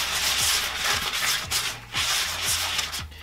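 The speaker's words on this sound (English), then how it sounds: "And as you can see, I'm mixing this just with my hand." Groundbait for bream and roach fishing being worked by hand in a bowl, giving a steady gritty rubbing and rustling with soft regular squelchy pushes about every half second, close up with no talk.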